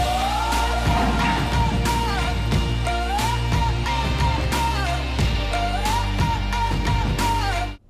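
A studio recording of a pop song, with a lead vocal that starts its phrases abruptly, sung loud and steady over a full band with a driving beat and repeating vocal hooks.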